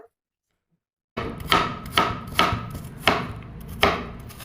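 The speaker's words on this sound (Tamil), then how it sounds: "நல்லா பொடியை நறுக்கி எடுத்துக்கலாம்" A knife chops banana stem finely and steadily on a cutting board, about five firm, evenly spaced cuts heard up close after a moment of silence.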